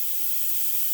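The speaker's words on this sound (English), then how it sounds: "So this is what the spray pattern looks like when you spray it out." A Grex XGi airbrush fitted with a fan cap sprays, giving a steady, close, bright hiss of air that holds even throughout.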